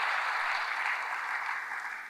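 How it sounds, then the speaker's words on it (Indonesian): Church congregation clapping together during a service, a soft, continuous bed of applause from a large room, steady and slightly fading toward the end, with no voices over it. "Berikan tepuk tangan bagi Tuhan."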